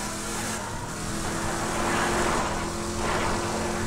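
Game car from Borderlands 2 driving in circles, a steady engine drone with a rising and falling whine as it turns, loud and continuous with no pauses.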